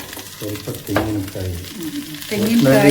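Leafy greens and grated coconut frying in a pan, a close sizzle under repeated stirring and scraping strokes with a spoon, steady and fairly loud, with voices murmuring in the background.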